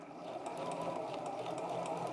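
Sewing machine stitching a half-inch seam on a cross-stitch Christmas stocking, a close, continuous rapid mechanical whir with fast needle clatter, steady throughout.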